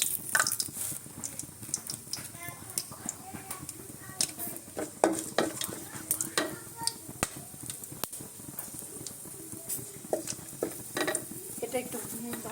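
Whole garam masala spices including cardamom and cinnamon frying in a pan for plain white pulao, a soft sizzle under frequent spoon scrapes and clinks against the pot, fairly quiet.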